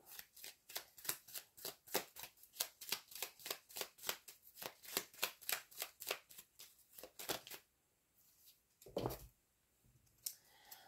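Tarot cards are shuffled by hand in a rapid, even series of crisp riffling slaps, close and clear, which stop partway through, followed by quieter handling and a couple of soft taps.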